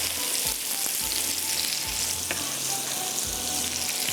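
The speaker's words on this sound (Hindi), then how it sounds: "ये देखें प्याज को, इसको यहाँ पर हल्का सा आपने फ्राई कर लेना है" Onions sizzling steadily in a hot pan for a Pakistani tawa qeema dish, a constant close frying hiss with a few soft stirring knocks and no talking.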